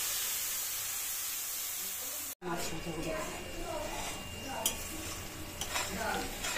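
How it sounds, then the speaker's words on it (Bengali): Green chillies, mustard paste and tomato fry in fish oil in a pan, a steady close sizzle with stirring scrapes, and a person talks over the cooking throughout. "ওই তেলে লঙ্কাটা ভাজা হয়ে গেলে দিয়ে দিচ্ছি এই সর্ষে"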